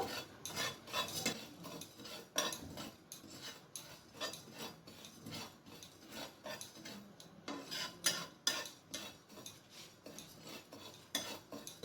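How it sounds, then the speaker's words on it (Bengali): Whole cumin, coriander seeds, fennel and a dried red chilli being dry roasted in a pan, giving steady scraping and rattling stir strokes of a spoon against the metal, close and continuous with no talk. "এরপর এই সব মশলাটাকে আমি ড্রাই রোস্ট করে নেব"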